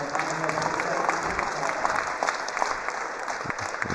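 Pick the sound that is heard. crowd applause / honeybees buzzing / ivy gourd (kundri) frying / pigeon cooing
crowd applause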